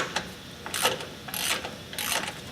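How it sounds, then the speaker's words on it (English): A ratchet wrench loosens the rear differential fill plug on a 2012 Nissan Xterra, with several short bursts of rapid clicking close up between brief pauses and no talking. "Start off by undoing the fill plug."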